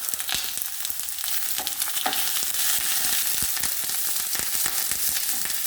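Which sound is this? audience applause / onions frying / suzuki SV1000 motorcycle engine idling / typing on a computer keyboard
onions frying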